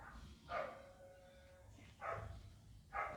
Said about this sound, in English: So I don't know why the neighbor's dogs are noisy.